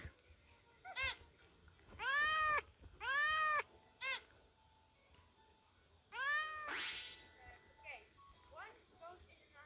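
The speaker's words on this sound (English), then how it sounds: "Toy cat." A toy cat gives several loud electronic meows in bursts, some long and drawn out, with quieter squeaks and faint indoor background between them.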